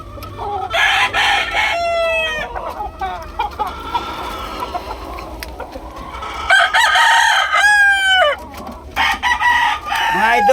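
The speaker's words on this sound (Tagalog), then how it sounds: "Pero normal na manok ito." A rooster crows repeatedly and chickens cluck in a backyard, close and loud, the crows rising and falling in several separate bouts spread across the clip, with faint talk in the background.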